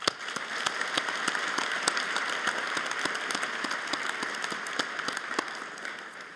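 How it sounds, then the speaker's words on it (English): A convocation crowd at a SAIT winter graduation ceremony applauds the graduates' families with steady, sustained clapping. Sharp individual claps stand out against a dense wash of applause that holds evenly at moderate loudness throughout. "I really think that they also, graduates, deserve a loud round of applause."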